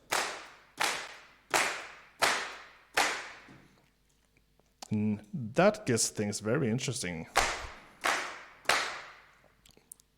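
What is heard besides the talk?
group claps from a music production plugin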